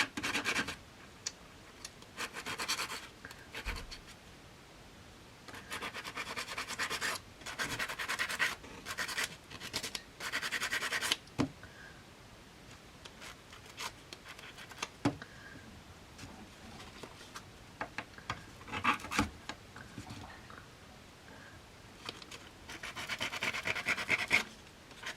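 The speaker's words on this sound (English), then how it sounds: "you can tone the colour down quite nicely with a sanding block." A sanding block rubs over small shiny metal pieces in repeated scratchy bursts of a few seconds each, close and fairly quiet, with pauses of near silence between strokes.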